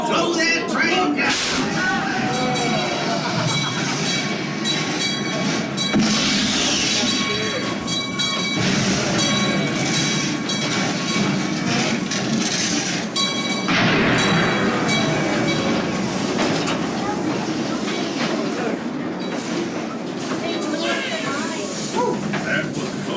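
A train rushes out of a caving-in mine shaft with continuous loud rumbling, hissing and clattering wheels, plus rhythmic clicks and squeals, with voices mixed into the din.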